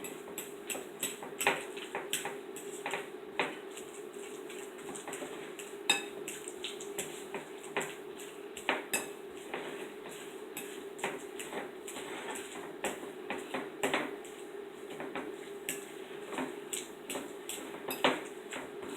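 Steady scraping and clinking of a utensil against a bowl as something thick is stirred and mixed, with frequent small knocks, close and continuous.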